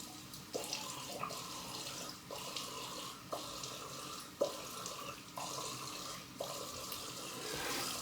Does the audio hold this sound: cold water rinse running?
yes